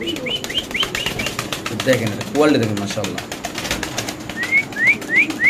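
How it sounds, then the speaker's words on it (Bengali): Fill-back pigeons, including black fill-backs, at a pigeon market coo and call close by with bursts of chirping and some wing flaps, while someone talks over them. "এখানে দেখাবো দুই জোড়া ফিলব্যাক কবুতর নাকি ভাই? এটা হলো ব্ল্যাক ফিলব্যাক।"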